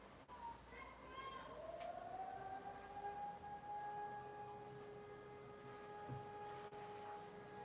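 A civil defense siren on its monthly test wails steadily in the distance, its long tone rising and then holding for several seconds, faint under a quiet room.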